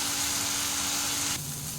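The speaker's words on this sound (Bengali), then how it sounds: "তো এটা একটু লাল লাল করে ভাজা হোক।" Fish sizzling and frying in a hot pan, a dense close hiss that holds steady and then drops to a softer crackle near the end, with no voices.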